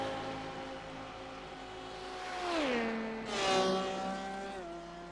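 GT race cars in a simulated 10 Hours of Le Mans endurance race drone at steady high revs, engine pitch sliding down as a car shifts or passes, with a faint whoosh of passing traffic.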